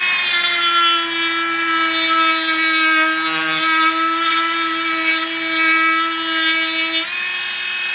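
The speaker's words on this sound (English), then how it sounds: "we'll grind into a little bit of HDPE plastic with just a sanding wheel" A high, steady whine from a Greenworks cordless rotary tool as its sanding wheel grinds against HDPE plastic, holding a constant pitch with a brief shift near the end.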